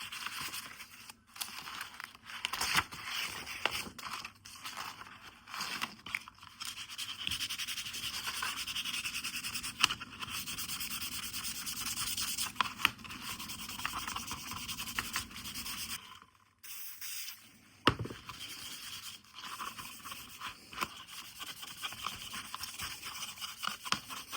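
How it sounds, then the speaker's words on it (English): Sandpaper rubbed by hand along the damaged edge of an old knife sheath for a 50-year-old Morakniv No. 3, giving a steady, close scratchy rasp with short strokes and brief pauses. "so I also use a bit of sandpaper to try to remove them"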